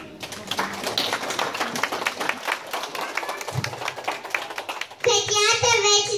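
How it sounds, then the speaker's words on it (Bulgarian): At a kindergarten celebration in Plovdiv, parents clap for children's butterfly performance; distinct close handclaps patter irregularly for about five seconds, then music with a voice takes over. "А сега аплодисменти за нашите прекрасни пеперуди."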